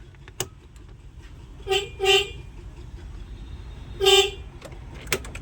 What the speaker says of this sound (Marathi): हॉर्नचं पण केलं काय